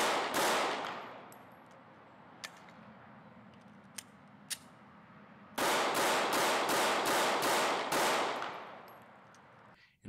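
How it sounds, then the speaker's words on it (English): Mossberg MC1sc compact handgun firing outdoors: a single shot at the start, a few faint distant pops, then a quick rapid-fire string of about eight sharp, loud reports in close succession. "I shot in groups and rapid fire."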